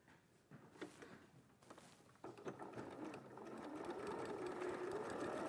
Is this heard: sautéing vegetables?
no